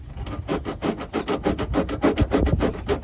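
Paint and primer rubbed off a part by hand with an abrasive, in steady, rapid back-and-forth rasping strokes, roughly four per second, close and fairly loud with no talking.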